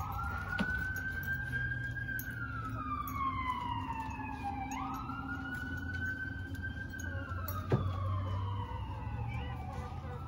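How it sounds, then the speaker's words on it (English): A wailing siren sweeps up and down in long cycles at moderate distance, with a second siren tone layered above and a low traffic hum underneath. "all of a sudden there's sirens on a Wednesday morning"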